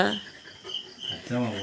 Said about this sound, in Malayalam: ചീവീടിൻ്റെ ഒച്ച